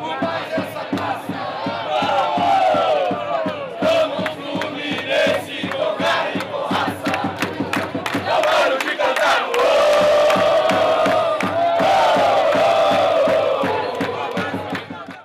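Fluminense supporters, nearly three thousand visiting fans at Morumbi stadium, chant and sing together in a loud, sustained rhythmic roar with clapping-like beats throughout.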